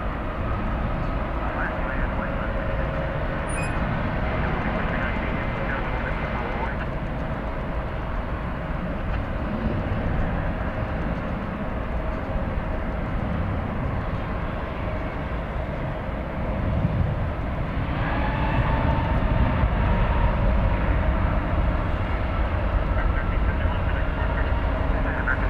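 Airbus A321neo airliner at DFW Airport on flight 1371 to Des Moines, a sustained loud jet engine roar that grows stronger toward the end, with talking mixed in.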